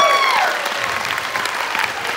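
Audience applause at an evening event, a dense wash of clapping from a crowd that starts strong and continues steadily, with a brief tonal squeal at the start.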